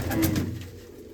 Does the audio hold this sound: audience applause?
no